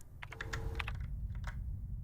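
Keyboard typing in the video game SIGNALIS, a quick run of crisp key clicks up close, then a brief pause and a couple more taps, over a low background hum.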